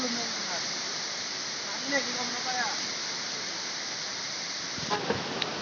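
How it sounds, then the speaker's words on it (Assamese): Cherrapunji waterfall near Shillong as a steady, broad rushing roar with no breaks, recorded close, with faint voices and a few handling bumps over it. "এয়া ফাইনেলি চেৰাপুঞ্জী ৱাটাৰফল"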